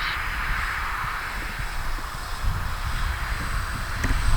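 An Avios Albatros V2 RC plane passes low and slow with landing flaps down, its faint propeller drone growing slightly louder as it nears, heard over outdoor wind noise.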